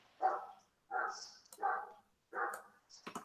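A dog barks in four separate loud bursts at a steady pace, each about half a second long, with a final shorter sharper yelp; no one speaks.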